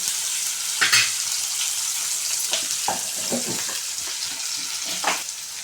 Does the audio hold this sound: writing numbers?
no